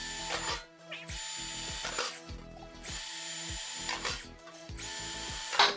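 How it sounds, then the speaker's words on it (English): A power drill bores holes into the bottom of a compost tray in several short, sharp whining bursts separated by brief pauses, close and clear with no talking. "So we just drilled our holes in the bottom there."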